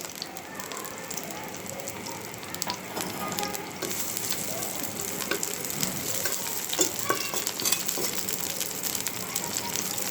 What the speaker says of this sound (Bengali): এখন আমি কপি আর আলু ভাজিটা করব। দিয়ে দিলাম তেল, পেঁয়াজ আর কাঁচামরিচ